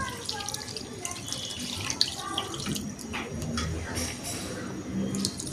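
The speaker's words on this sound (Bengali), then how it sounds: "অল্প পরিমাণে পানি দেওয়া হচ্ছে" Water poured in a small amount onto meat cooking in a pot, a steady close splashing stream running throughout with faint background noise.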